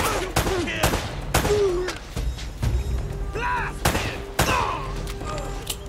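Gunfire in Uncharted: Drake's Fortune comes as a string of sharp, punchy shots spaced irregularly across the clip, mixed with thuds and other game effects and brief voice-like sounds.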